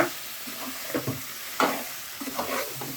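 A spoon scrapes and stirs brinjal curry in a pan, giving several uneven scraping strokes over a soft sizzle, close and moderately loud, with no one speaking.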